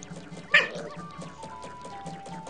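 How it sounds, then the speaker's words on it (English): A puppy gives one sharp close yip followed by thin whimpering whines, set over a rhythmic background of game music. "See, even the puppy thought it was funny."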